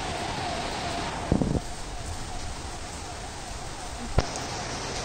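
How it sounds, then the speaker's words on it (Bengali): Rain falling in a steady wash of hiss outdoors near a hospital, with a couple of brief knocks and a faint tone beneath. "ফাইনালি বৃষ্টিও নেমে গেছে।"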